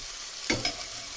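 Oyster mushrooms frying in hot oil in a pan, a constant close hiss with two brief louder bursts as pieces are flipped and the oil spits.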